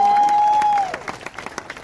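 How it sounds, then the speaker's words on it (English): An audience claps during a talk at a restaurant. A sustained tone fades early on, then brief scattered clapping follows. "Let's give a round of applause"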